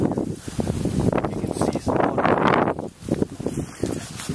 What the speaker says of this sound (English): it's kind of windy, but not too bad, really